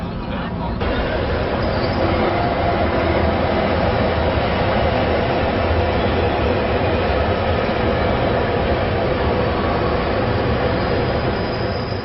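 A Beijing subway train runs through an underground tunnel, giving a loud, continuous roar and rumble that stays even throughout, with faint murmuring from passengers underneath.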